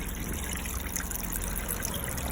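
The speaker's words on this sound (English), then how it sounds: "the water that's going down the plug hole there is going down this pipe into here" Water from a tap drains steadily down the plug hole of a small sink fitted in a Toyota Alphard camper van, a continuous close trickle and gurgle with no talking.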